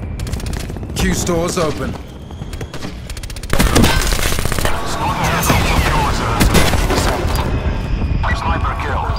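Heavy gunfire crackles in loud, rapid bursts and booms, with a voice speaking briefly over the early shots before dense firing takes over and keeps going.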